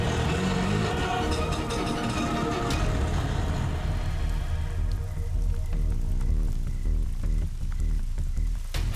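Heavy rain pours down in a loud, dense, continuous wash, with low rumbling and tonal music layered through it and no speech.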